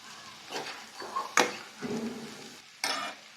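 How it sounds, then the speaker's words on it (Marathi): Potato pieces for a dry Maharashtrian batata bhaji stirred and fried in a pan: close, scraping stir strokes over a soft sizzle, with a few sharp utensil knocks against the pan. "आपण यामध्ये बटाटे टाकूया आणि चांगलं मिक्स करून घेऊया"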